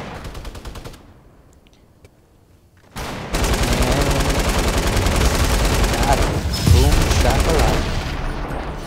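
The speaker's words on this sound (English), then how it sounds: "Machine gun time. Machine gunner." Machine gun fire in a Fortnite 50 vs 50 match: after a quieter opening stretch, dense rapid bursts of automatic gunfire start near the three-second mark and continue loudly to the end, with a short heavier blast later.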